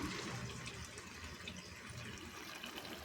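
Tamarind juice pours into a pot of fish curry, a faint, steady liquid splash and trickle with no talking.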